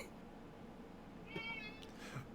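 A cat meows twice softly against a steady background hum, a drawn-out mew followed by a shorter one, fairly faint and with no talk over it.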